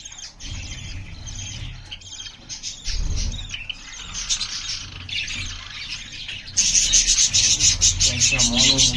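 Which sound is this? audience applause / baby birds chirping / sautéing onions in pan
baby birds chirping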